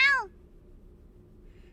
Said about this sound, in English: meows in agreement while batting around a small rubber ball